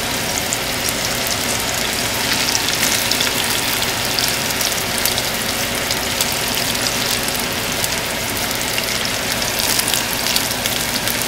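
Onion fries in warm oil for an egg biryani, a dense, continuous crackling sizzle that stays loud and even throughout, with no speech over it.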